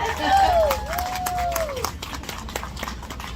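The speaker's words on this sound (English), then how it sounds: "Can we just give them a round of applause?" A crowd at a folklife festival giving a round of applause, scattered clapping beneath a voice speaking over it.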